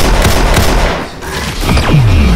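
Rapid bursts of video game gunfire crackle back and forth, loud and close, with a brief lull in the middle before more shots and a descending whine.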